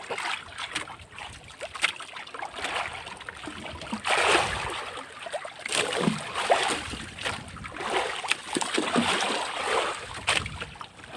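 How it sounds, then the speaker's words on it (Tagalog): A boat returning across choppy sea, with steady splashing and sloshing waves against the hull and wind noise throughout, no talking. "Pauwi na, medyo maalon kasi masulog ang dagat."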